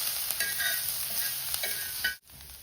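Spices and ginger roasting in a pan over a wood-fired village stove, with a close continuous sizzle and repeated stirring scrapes, then a brief dropout near the end.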